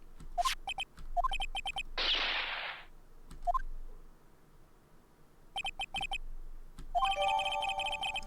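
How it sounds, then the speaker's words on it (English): A phone ringtone from the Phoenix Wright: Ace Attorney video game chirps in repeated short bursts of electronic tones, separated by pauses, with a brief burst of noise in between; clear and close, no talk. "I heard her phone ring just now, one of those newfangled ringtones."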